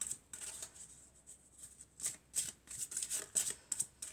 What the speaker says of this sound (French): Alors, on va couper et puis on va prendre une carte.